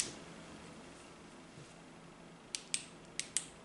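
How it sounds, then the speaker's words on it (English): Clicky tail switch on a single AA battery torch pressed several times, four sharp faint clicks near the end after a quiet stretch. "It's just got a clicky switch on the end."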